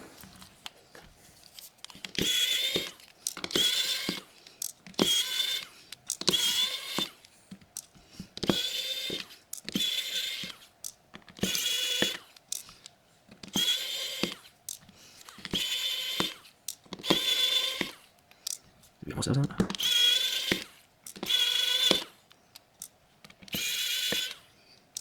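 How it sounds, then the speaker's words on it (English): Small screwdriver backing screws out of a Motorola Moto G Stylus 5G (2025) during a teardown, a steady series of quick clicking, ratcheting turns repeated in short bursts, close and fairly quiet with no talking. "So let's get all the screws out."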